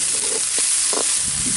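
Onions and tomatoes sauté in a pan for a crab curry made with stone-ground masala, giving a steady close sizzle with a few soft stirring scrapes.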